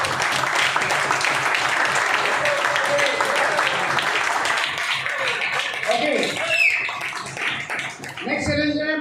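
An audience applauds together, a loud, dense patter of many hands clapping that fills the room and thins out toward the end, with a voice talking over it.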